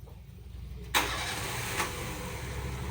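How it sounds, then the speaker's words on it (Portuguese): A car engine cranks and catches with a sudden burst, then keeps running at a loud, rough idle with a brief rev partway through, close by. "Liga o carro para mim aí, Gabriel."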